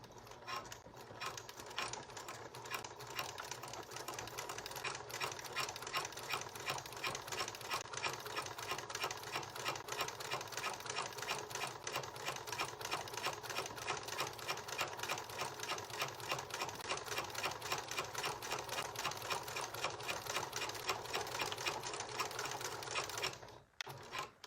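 Sewing machine stitching a flat felled seam on jeans, a steady rapid mechanical whir and clatter running without pause for over twenty seconds, then stopping abruptly near the end.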